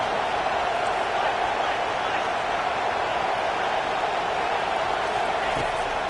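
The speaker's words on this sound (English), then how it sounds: "the crowd's giving them some juice" College football stadium crowd roaring as the defense lines up goal to go, a steady, dense wall of cheering and noise from start to finish with no breaks.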